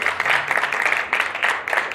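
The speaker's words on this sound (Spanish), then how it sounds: "Un aplauso para ellos, por favor." Audience applause at Rock al Parque 2023 metal day for a band, a steady wash of clapping from a crowd with swelling bursts, fairly loud and continuous without talk over it.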